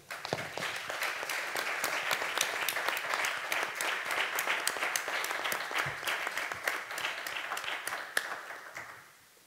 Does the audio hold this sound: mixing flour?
no